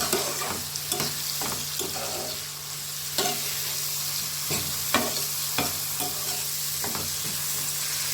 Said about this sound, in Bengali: আর এখন দেবো টমেটো কুচি। মশলাটাকে ভালো করে কষে নেব।